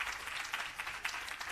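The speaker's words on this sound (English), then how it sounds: "Give the BSJ a clap." An audience claps steadily at a Bureau of Standards Jamaica public relations campaign launch, a faint, even patter of applause heard at a distance for a brief moment.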